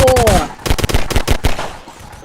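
Rapid bursts of video-game gunfire crackle in a quick irregular string, loud and close, with a brief higher tonal effect at the start and some voice mixed in.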